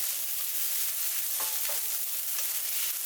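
Fresh basil leaves are stir-fried in a hot pan for a green curry fried rice dish, giving a steady close sizzle with a couple of brief stirring scrapes.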